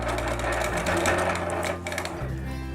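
Sewing machine running continuously for free-motion quilting, a dense rapid stitching rattle close up with a brief slowdown partway before resuming.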